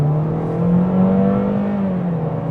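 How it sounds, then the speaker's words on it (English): A 2025 Toyota Corolla FX accelerating at half throttle in eco mode, its engine hum rising and steadily climbing in pitch as the car pulls away, heard from inside the cabin without talk. "half throttle in eco mode,"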